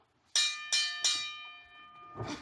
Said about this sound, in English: Referee's got to stop it again. It's over. It's over. You got it. It's over. It's over. Hey, ring the bell. The bell.